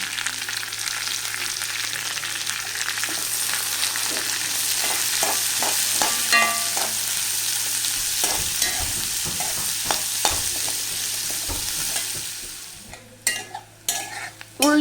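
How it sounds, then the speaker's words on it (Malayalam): Onions frying in oil in a pan for cauliflower masala, stirred with a spoon: a steady loud sizzle with repeated scraping stir strokes, then a few clinks and knocks near the end. "നമുക്കിനി ഇതിലേക്ക് സവാള ഇട്ട് കൊടുക്കാം"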